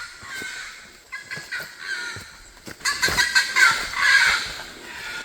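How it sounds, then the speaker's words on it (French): A bird calls in the forest of French Guiana along a trail, giving several harsh, cawing cries at moderate distance that grow more insistent toward the end. "je pense que c'est un oiseau"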